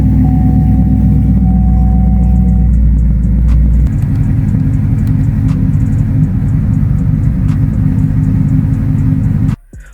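A 5th-generation Chevrolet Camaro engine runs loud and close with a heavy low rumble that eases after a few seconds into a steadier idle, then cuts off abruptly near the end.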